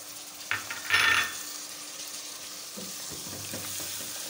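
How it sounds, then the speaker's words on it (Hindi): Tomatoes go into hot oil with garlic and ginger for aloo qeema, bringing a sharp burst of sizzling and a few metallic clinks, then a quieter steady frying with occasional stirring scrapes. "अब हम इसमें टमाटर डाल देंगे।"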